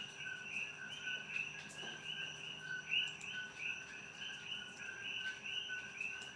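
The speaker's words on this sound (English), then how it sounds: "Those are frogs you hear." Frogs call in a faint outdoor night chorus, a continuous layered trilling with steady high-pitched bands, distant and soft with no talk over it.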